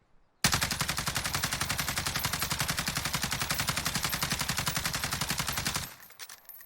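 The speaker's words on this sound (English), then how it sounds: "I'm going to try to counteract the recoil and see how many of these shots I can put down range on the target" Sustained full-auto burst from an AUG SMG fired at a target in Warzone, a loud, steady rapid rattle of shots lasting about five seconds before cutting off abruptly, followed by faint mechanical handling noise.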